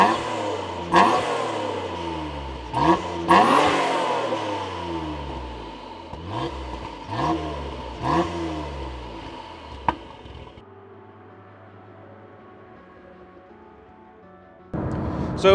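A Noble M400 sports car engine revs and accelerates repeatedly while driving around the block after an alignment, loud rising surges fading to a quieter idle before another burst at the end.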